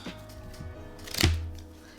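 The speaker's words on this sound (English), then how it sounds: "Let me shuffle them up real quick." Worn playing cards shuffled at a blackjack table: a short, close riffling whoosh that swells and fades in one quick burst, with no talk over it.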